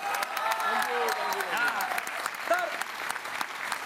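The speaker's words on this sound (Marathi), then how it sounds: "टाळ्या झाल्या पाहिजे सरांसाठी एकदा." Audience applause at a Marathi TV comedy show, steady clapping from a crowd lasting several seconds, with a voice speaking over it.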